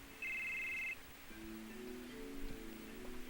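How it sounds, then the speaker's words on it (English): A telephone rings briefly in Final Fantasy VII, a short bright electronic trill, followed by quieter low tonal game music that continues underneath. "So now let's get a phone call."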